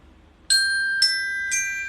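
Three bright, ringing chime strikes mark the completion of an exercise, evenly spaced about half a second apart, each bell-like tone sustaining and overlapping into a shimmering ring, loud and alone.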